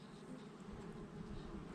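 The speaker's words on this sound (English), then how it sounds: "Absolutely swarming with bees." Bees swarming around ancient ruins in Spain, a steady, continuous buzzing hum that fills the air without breaks and stays fairly faint and even throughout.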